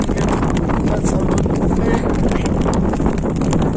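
Strong wind roars across an exposed mountain summit, buffeting the microphone with loud, continuous rumbling gusts throughout.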